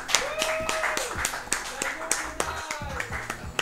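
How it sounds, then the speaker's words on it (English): Claps at a live speedrun marathon event after a game over in Sonic 3 & Knuckles: sharp, close hand claps in an uneven rhythm, mixed with a voice talking over them. "You clap for the game over!"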